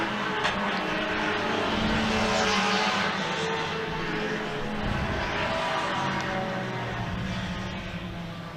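A Corvette, a Porsche and a Sprite race through a sweeping corner at Winton, a loud, sustained roar of several engines blending as they stream past, swelling and fading.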